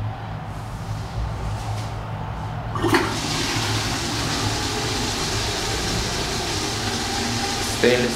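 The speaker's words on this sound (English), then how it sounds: "Try once to flush." A stainless steel public toilet at a German highway rest stop flushes with a sudden loud rush of water that settles into a steady roaring, hissing drain, set against a constant mechanical hum.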